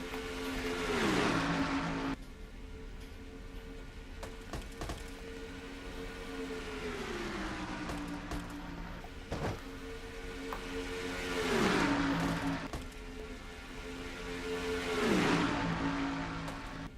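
Stock race cars in a simulated Winston All-Star Race from a Castrol GTX Cup Series racing video game, engines droning steadily with rising and falling pitch as cars sweep past, three louder passes standing out, no voices.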